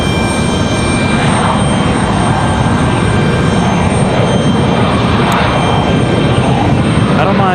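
A C-17 military jet departs Raleigh-Durham International Airport with a loud, continuous roaring engine rush that stays steady and close throughout.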